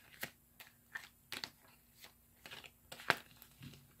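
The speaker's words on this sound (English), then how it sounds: "I'm guided to shuffle like this." A tarot card deck is shuffled by hand, crisp papery riffles and slaps in separated bursts, some brief and one louder snap, close and fairly quiet.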